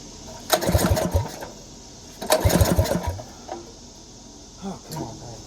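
A small engine on a cheap go-kart rattles and revs in two short throttle bursts, then sputters and fades to a rough idle, with a few faint bumps and handling noises after.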